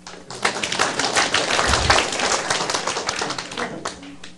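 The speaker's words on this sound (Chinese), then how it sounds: "啊，你们拍手哟！" An audience at a Taiwan Civil Government law-school lecture claps hands, a dense patter of many claps building in the first half second and holding steady for about four seconds, with a low thump and a faint voice underneath.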